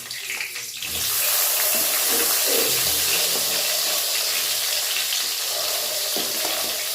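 Whole onions frying in hot oil for a paneer masala, a dense, loud, continuous sizzle that swells after the first second and stays steady, with no voices.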